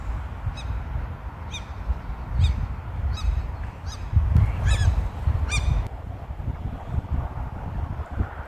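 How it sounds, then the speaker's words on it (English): Ducks or geese honk at a lochside on Loch Lomond in heavy rain, with several harmonic calls at moderate distance over steady wind noise and low rumble, no talk. "You're scaring the ducks away."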